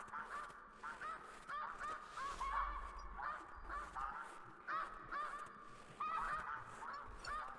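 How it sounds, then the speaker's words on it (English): In theHunter Classic video game, a flock of ducks calls with repeated honking, quacking cries at a moderate distance, overlapping over a continuous outdoor ambience with no talk. "I'm surprised at how many ducks there are"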